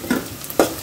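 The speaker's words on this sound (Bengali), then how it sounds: "আমাদের পেঁয়াজ ভাজা হয়ে গেছে, পেঁয়াজের রং বাদামি কালার" Onions fry in oil until browned, with two brief close bursts of sizzling and stirring against a soft background hiss.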